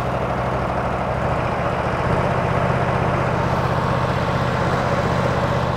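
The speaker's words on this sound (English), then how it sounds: "Open the delivery valve and increase the revs" A custom-built Isuzu fire truck engine runs the pump, a loud steady low drone that rises in revs partway through and then holds at a higher, even pitch.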